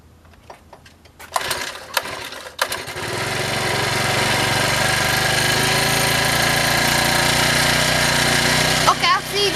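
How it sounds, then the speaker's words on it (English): A go-kart's small engine starts after several sharp pull-and-crank attempts, then settles into a loud, steady buzzing run close by. A voice speaks briefly near the start. "this is going to be the startup on the go-kart"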